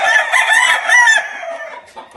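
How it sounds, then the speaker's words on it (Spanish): Farmyard poultry, with chickens clucking busily while a rooster crows, loud and close, the calls tapering off toward the end with no speech. "Porque son aves de corral."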